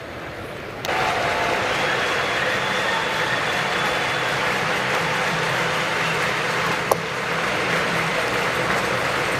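A large Puerto Rico crowd at a World Baseball Classic quarterfinal against Italy roars and cheers in a steady, dense wash of noise for nearly the whole stretch, with one sharp crack partway through.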